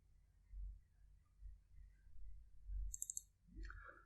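A computer mouse clicks quietly, a quick burst of several crisp clicks late on against near silence and low room rumble.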